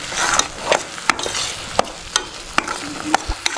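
Masala cooks in a pot over a fast gas flame, a constant sizzle broken by sharp, repeated scrapes and knocks of a small spoon stirring every half second or so, close and clear.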